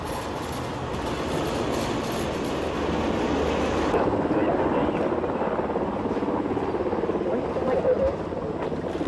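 Police helicopter flying over a village during an armed search operation, a continuous loud broadband rotor roar with rapid chopping texture that stays steady throughout, with no talk.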